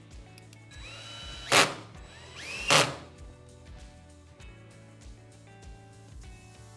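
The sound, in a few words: screwing brackets in with system screws, power drill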